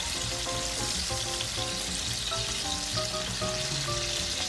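Merguez sausages fry in a pan, giving a steady, close crackling sizzle that runs unbroken, with a faint musical tone underneath and no voices.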